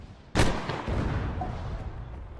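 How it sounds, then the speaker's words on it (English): A rocket launcher fires in Arma 3, a single loud blast whose roar trails off into a long, rumbling wash of noise. "I'm thinking I'm going to fire a rocket up there and maybe move on afterwards."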